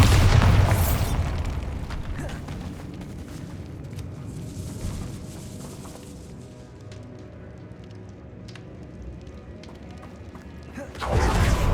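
A Bombarda spell in Hogwarts Legacy detonates with a loud, deep boom at the start, its rumble fading, then a second explosive blast erupts near the end.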